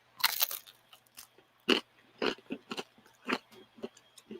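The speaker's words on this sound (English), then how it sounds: "the Lou Malnati's pizza that I'm eating today, it's a little extra crunchy because it's been reheated" Someone bites into and chews reheated, extra-crunchy leftover Lou Malnati's pizza, with close, crisp crunches in an irregular rhythm between quieter chewing.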